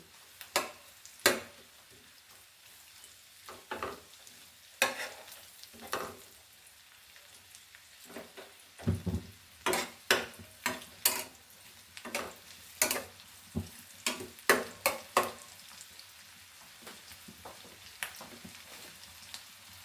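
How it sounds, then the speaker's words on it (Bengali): Cinnamon fries in a pan of oil, giving quiet, irregular crackles and pops over a soft low hiss. Some pops come in clusters, all heard close up without talk. "এটা আমি এভাবে ভেজে নেব।"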